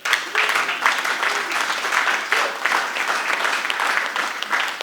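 An audience at a talk on national sovereignty breaking into loud, sustained applause, a dense even wash of many hands clapping close by throughout.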